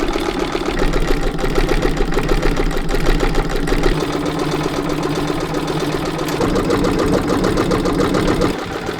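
A century-old sewing machine, freshly oiled, runs steadily with a continuous rapid mechanical whirr and rhythmic clatter, loud and close throughout with no speech.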